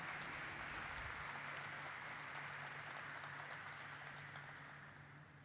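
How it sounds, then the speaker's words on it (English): An audience at a stock exchange listing ceremony for Sagility India Limited gives a faint, distant round of applause over a low electrical hum, tapering off toward the end. "Let us have a resounding of claps"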